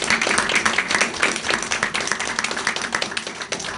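Dense applause from an audience at a township council meeting, steady crackling clapping across the whole stretch at close range, with a few scattered voices mixed into the crowd noise.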